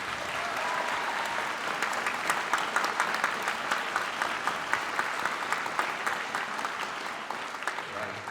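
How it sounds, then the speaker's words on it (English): An audience applauds a middle school honor band at a school district honor bands concert, steady full clapping from a large crowd that stays even throughout without voices over it. "maybe one more round of applause for our middle school honor band"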